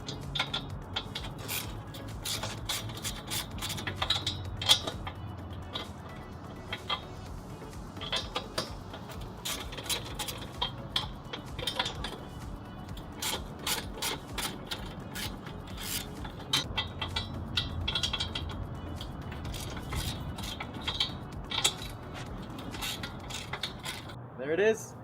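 A front bumper reinforcement bar comes off a Lexus IS300, with steady metallic ratcheting, clicking and scraping of hand tools at close range, continuing without pause.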